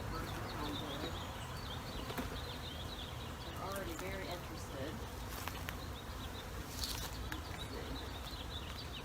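A swarm of honey bees hums as a dense, steady buzz filling the air outdoors, with a person talking over it.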